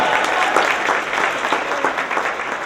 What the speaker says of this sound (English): Give Janet a round of applause